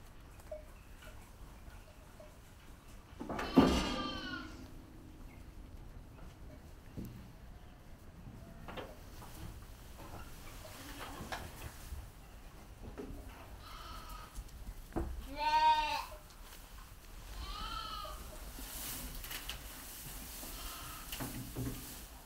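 Several sheep bleat in a farm pen, scattered wavering calls at moderate distance over quiet ambient noise, with faint people talking in between.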